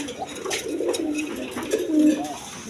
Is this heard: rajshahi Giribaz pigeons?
yes